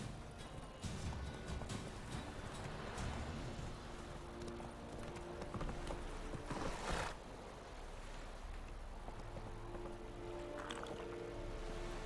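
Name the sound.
horse galloping hooves in video game The Witcher 3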